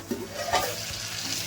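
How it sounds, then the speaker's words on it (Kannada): Sweet pumpkin pieces stirred into a hot tempering in a pan for a Mangalore vegetable sambar, giving a short scraping stir and a soft sizzle with a brief louder burst early on. "ಸಿಹಿ ಕುಂಬಳಕಾಯಿ ಒಗ್ಗರಣೆ ಜೊತೆ ಮಿಕ್ಸ್ ಮಾಡ್ಕೊಳ್ಳೋಣ."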